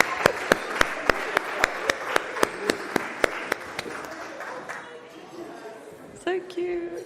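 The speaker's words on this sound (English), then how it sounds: "All right, a round of applause, please." An audience at a climate solutions forum gives a round of applause, a loud, even clapping rhythm that thins out midway as talk and chatter take over.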